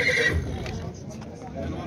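A horse whinnies at a busy horse market, one neigh near the start standing out over a crowd of talking voices, with muffled bustle carrying on afterward.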